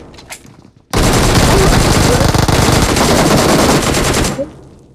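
Sustained automatic gunfire in a 1v4 video game fight, a loud dense rattle of rapid shots lasting a few seconds close up, after a brief lead-in of quieter game sounds and a voice.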